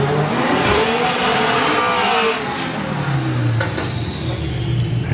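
Drag racing car at a Bug Jam Volkswagen event, its engine roaring loud and close as it passes, with the pitch sliding downward as it moves away, alone with no talk.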